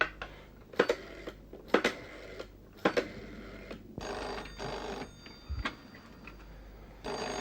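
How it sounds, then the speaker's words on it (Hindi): An unanswered telephone rings in a quiet room, its bell bursts repeating at a steady interval, fairly faint and alone with no talking. "फोन उठा क्यों नहीं रही है?"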